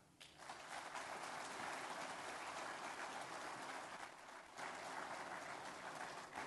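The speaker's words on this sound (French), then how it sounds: "je voudrais solliciter un tonnerre d'applaudissements pour chacune et chacun d'entre eux" A hall full of people applauds at the opening ceremony of an African caucus in Bangui, a continuous dense roar of clapping that holds steady and full for several seconds.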